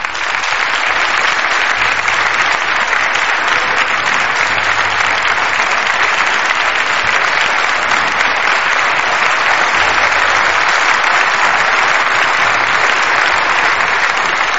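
Television studio audience applauding continuously, a loud, dense, even clapping that fills the whole stretch without pause.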